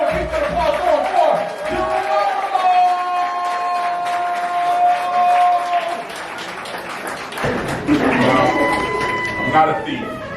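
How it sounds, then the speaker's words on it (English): Audience applauding and cheering through a slam poetry finale, a steady wash of clapping with crowd noise and some whoops, while an amplified voice and tonal sounds cut in over it. "Keep that applause going"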